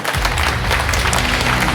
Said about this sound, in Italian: Bell'applauso.